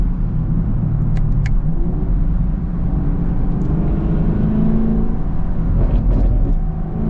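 A Chevy Camaro SS on the move, its exhaust a loud, steady low rumble heard from inside the cabin, with faint road and wind noise and a few brief clicks, no talking.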